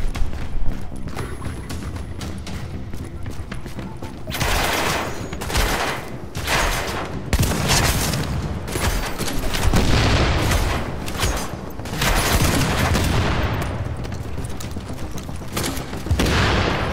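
Grenade launcher explosions in a shooter video game, a barrage of loud, heavy bursts and booms that comes in clusters with brief lulls between them and builds to dense volleys in the middle.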